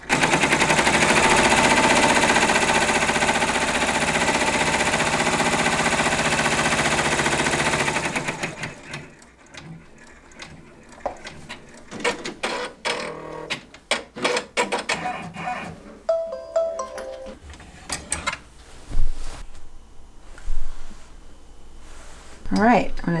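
Embroidery machine stitching an appliqué tack-down, a rapid rhythmic mechanical chatter that stops partway through, followed by someone talking over softer handling noises.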